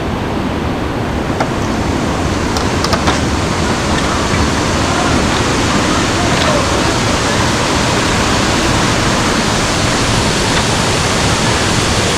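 A waterfall in Chiang Mai province, Thailand, pours with a dense, unbroken roar, loud and close, holding steady throughout with only faint brief clicks on top.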